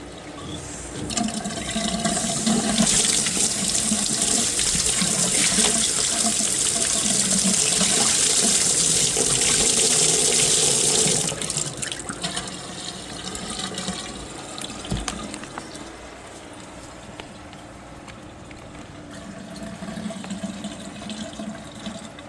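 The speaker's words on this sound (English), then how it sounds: "Gonna run some hot water" Hot water pours steadily from a laundry sink tap into a clogged drain with a bright hiss for about ten seconds, then eases to a softer trickle and background noise.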